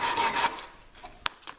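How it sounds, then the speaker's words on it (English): Hand sanding of reclaimed softwood box parts gives a brief, close rasping rub, followed by a couple of faint taps. "And I'm just carefully sanding these till they're square."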